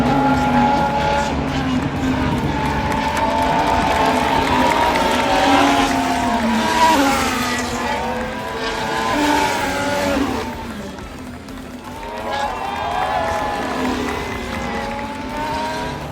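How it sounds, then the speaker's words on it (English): Formula 1 cars on the formation lap at the 2025 Hungarian Grand Prix produce a continuous, loud engine whine that rises and falls as the cars stream past, with overlapping pitches from several cars. "Here we have the cars coming round on the formation lap."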